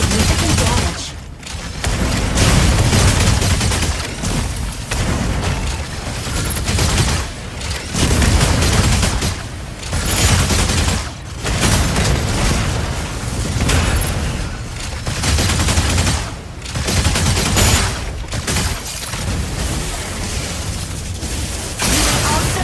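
Heavy, sustained energy autocannon fire from the mech combat game Mecha Break roars in loud repeated bursts separated by brief pauses, with booming impacts layered over the barrage.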